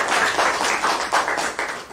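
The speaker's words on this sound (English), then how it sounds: "I request all of you to make a big round of applause for our guests." An audience at a National Youth Day event applauds the guests, a steady, moderately loud patter of many hands clapping, with no voices over it.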